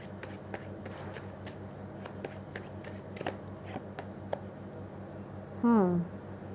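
Tarot cards being shuffled by hand in a steady run of soft riffling flicks, with brief snaps, a person talking throughout and a short burst of voice near the end.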